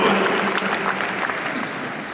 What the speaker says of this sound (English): I knew I'd get applause from the gallery.